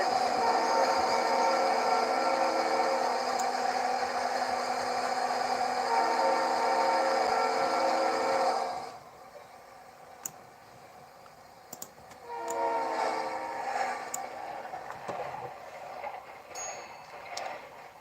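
Conrail train passing in the Roblox railway game, a steady loud rumble of rolling cars for about nine seconds that drops off sharply, followed by fainter clicking and another softer rumble of wheels on track.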